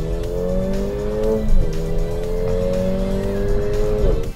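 A 2018 Mercedes-AMG GLA 45 with 375 horsepower launches hard under launch control, its engine note climbing loudly with tire squeal, dipping briefly at a gear change, then rising steadily again.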